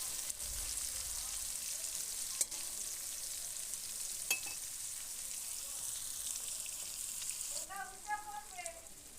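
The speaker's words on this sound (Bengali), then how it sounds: "পেঁয়াজ কুচিগুলোকে বেশ ভালো করে ভেজে নিতে হবে।" Chopped onions fry in a pan for a chicken curry, giving a soft, steady sizzle with a few spoon taps. A faint tonal sound rises near the end.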